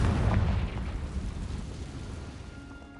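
Confringo explosive spell blasting in Hogwarts Legacy, a loud low boom at the start that decays into a rumbling, crackling tail over a few seconds, with no voices.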